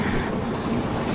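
A large fishing trap is tossed into the sea from a boat by the beach, a short burst of splashing water over steady wind and surf noise.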